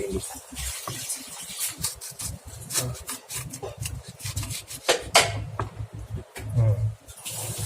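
A kitchen knife chops fresh ingredients for Balinese sambal matah on a wooden board, with a steady run of close scraping and rasping cuts that grows louder near the end.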